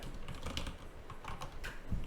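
Soft, rapid tapping on a small computer keyboard, a continuous patter of quiet keystrokes heard close up against faint room noise.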